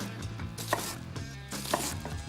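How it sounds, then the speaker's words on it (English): A knife cutting down through an onion on a board, two firm chopping knocks about a second apart, close and fairly soft over a background hum and light kitchen clatter. "With the weight of the blade to cut through that onion to get to the base of the root."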